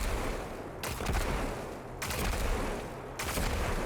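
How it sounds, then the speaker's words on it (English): Rapid, repeated small solar explosions pop off in Destiny 2 gameplay, dense crackling bursts in quick succession with a few sharp pauses between volleys. "you'll hear these little explosions popping off with a little damage"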